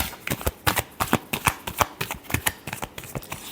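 Tarot deck being shuffled by hand in a quick run of crisp, riffling card slaps, close and clear with no talking.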